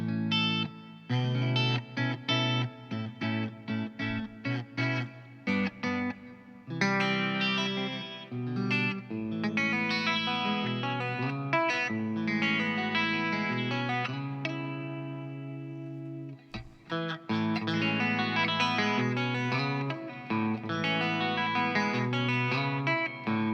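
Guitar run through a chorus effect with the depth turned to full, strummed chords and picked phrases in math rock progressions that shimmer and waver, played steadily and close with no talking.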